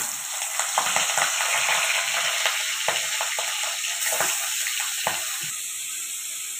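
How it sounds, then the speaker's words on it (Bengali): Large turmeric-and-salt-coated katla fish pieces sizzle in hot oil in a home kitchen, a steady loud frying hiss with a few soft knocks and clinks of a spatula, no talking. "এই দেখুন, মাছগুলো আমার একদম লাল লাল করে ভাজা হয়ে গেছে"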